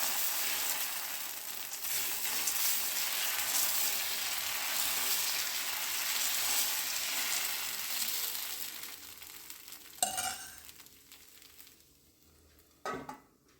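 Mangalore cucumber dosa batter hisses steadily on a hot pan in a broad, even sizzle that fades after about ten seconds, followed by two sharp clanks of metal against the pan.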